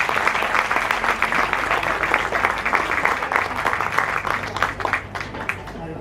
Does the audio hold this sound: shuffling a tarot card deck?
no